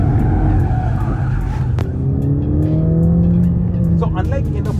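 A Mercedes-AMG A45 S is driven sideways on a track, its tires squealing and skidding in long scrubbing wails over a loud, revving engine, with a person talking throughout.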